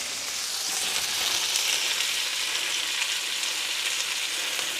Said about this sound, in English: they've got to sizzle and cook through.